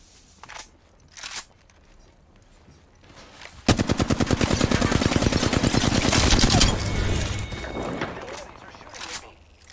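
Automatic gunfire in Apex Legends: a few short bursts early, then a loud, sustained rapid stream of shots for several seconds that tapers off, with game voice callouts and player chatter around it.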